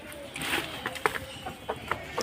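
Village chickens cluck in short, scattered bursts close by, soft and irregular against quiet rural background noise.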